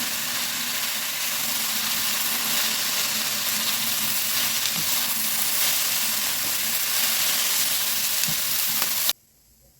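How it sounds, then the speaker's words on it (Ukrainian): Chopped onions fry in a pan for steamed cabbage pies, a loud, continuous close sizzle with faint crackles and the odd stir, cutting off abruptly near the end. "А зараз поки смажу."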